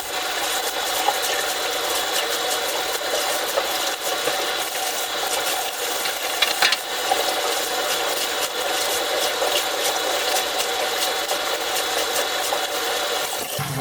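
Medium foam filters from a Fluval 306 aquarium canister are rinsed and worked under running water, giving a continuous close hiss with scattered rubbing and squishing noises throughout.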